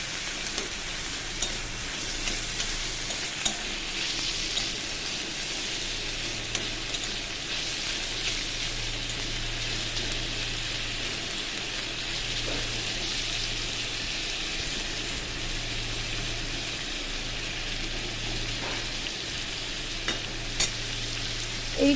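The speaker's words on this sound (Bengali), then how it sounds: "একটু আলাদা করে একটু নেড়ে নিয়ে আমি মশলার সঙ্গেই কষাবো।" About 100 grams of prawns stirred and fried in spice paste for a jackfruit-seed chorchori, a continuous loud sizzle with steady scraping stirs through the whole stretch, no talking.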